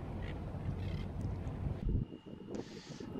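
Fishing boats from Phu Quy island speed out to sea, a steady, full engine drone with wind buffeting the microphone that drops away briefly near the end.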